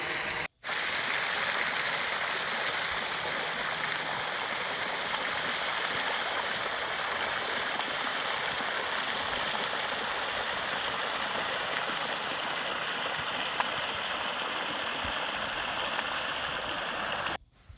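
Hot artesian bore water at 58 degrees Celsius pours out in the Australian outback at about 50,000 litres a day, a steady broadband rush like a stream that runs unbroken throughout at constant loudness.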